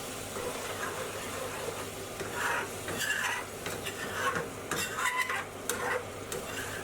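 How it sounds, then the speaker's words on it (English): A metal spoon scrapes the edges and base of a hot pan of chicken madras curry, sizzling steadily while irregular scrapes and stirs come up close, with no talking. "scraping the edges of the pan as well as the base to stop it sticking"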